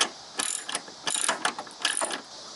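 A ratchet tightens the plastic battery hold-down clamp on a 2006-2016 Chevrolet Impala. There are three close bursts of rapid clicking separated by short pauses, and no talk.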